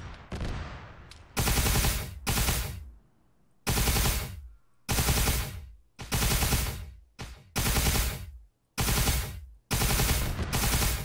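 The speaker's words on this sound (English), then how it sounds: "This Hellgun's insane." A Hellgun from a Warhammer 40k mod for the ARMA 3 video game fires in loud, rapid bursts of about a second each, separated by short silent gaps, close and dominating the scene.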